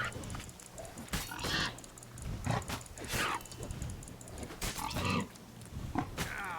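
A wild boar in Witcher 3: Wild Hunt grunts and snorts repeatedly in rough bursts over a low background rumble, close and fairly loud.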